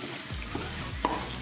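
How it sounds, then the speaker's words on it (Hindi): Garlic and onion frying in hot oil in a pan for an aloo murghi curry, giving a steady close sizzle with stirring scrapes and one brief clink, no talk. "अब हम इसमें ऐड करेंगे लहसुन और प्याज।"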